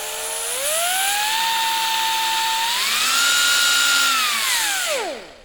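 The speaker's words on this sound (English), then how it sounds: "when you start up the sander, you can turn it at a lower RPM" An air sander spins up with a rising whine, holds at speed, climbs higher, then winds down, close and steady with no speech.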